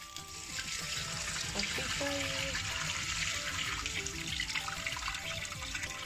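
Beans are washed by hand in water for Nigerian akara, giving a continuous sloshing, trickling rush of water with occasional clinks, fairly close and steady with no talking.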